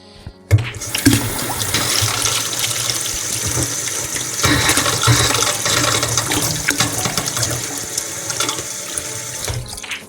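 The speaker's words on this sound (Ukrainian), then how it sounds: "Треба набрати води гарячої." Hot water gushes steadily from a tap in the video game Chicken Gun for several seconds, a loud continuous rushing flow that starts suddenly and cuts off near the end.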